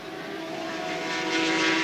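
A red and white 1985 Yamaha V4 Grand Prix racing motorcycle of over 140 horsepower at the British Grand Prix, its engine a loud steady high-pitched wail that rises slightly in pitch, heard alone.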